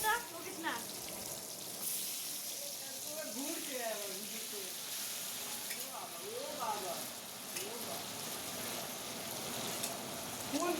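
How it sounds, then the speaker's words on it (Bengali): Chicken pieces sizzling in hot mustard oil in a wok, a steady close crackling fry that runs throughout, with a voice talking faintly over it at times. "এইবার আমরা মাংসগুলোকে ছাড়ছি।"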